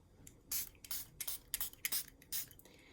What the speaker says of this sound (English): I have this homemade purifying spray.